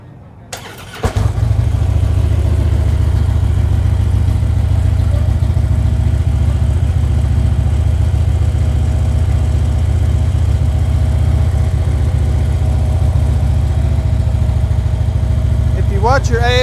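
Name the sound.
Street Glide motorcycle engine starting and idling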